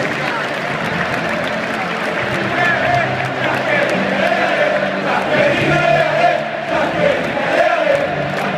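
A packed stadium crowd applauds and cheers a Juventus player at the 31st Scudetto title celebration after the match against Cagliari. The roar holds steady throughout, and an announcer's voice speaks over it.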